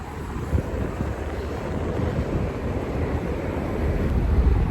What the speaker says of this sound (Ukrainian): просто вітер і дуже холодно, аж пронизує